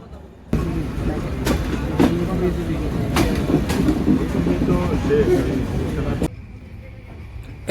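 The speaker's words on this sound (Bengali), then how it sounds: "এই যে আমার ট্রেনটা হলো বঙ্গবন্ধু যমুনা সেতুর উপর দিয়ে ট্রেনটা চলতেছে" A passenger train, the Dhumketu Express, rolls across the Bangabandhu Jamuna Bridge near Sirajganj. Heard from on board, a steady heavy rumble carries repeated clickety-clack wheel knocks, then drops abruptly quieter near the end.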